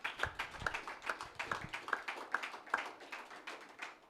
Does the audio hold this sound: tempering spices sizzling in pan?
no